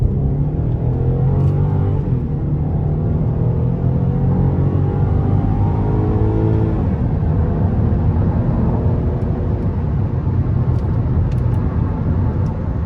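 A 2015 Buick Enclave with the 3.6 V6 pulls hard at full throttle, its engine drone rising steadily and sliding through smooth gear changes, a continuous loud cabin rumble with no talking.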